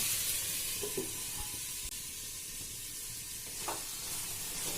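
Steady, quiet sizzling of boiled potatoes and jackfruit seeds frying in a pan, with a few soft scrapes of stirring now and then.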